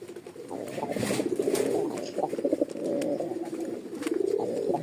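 A pair of light biscuit-coloured pigeons, male and female, coo steadily and close by in a repeating throaty rhythm, with no talk over them.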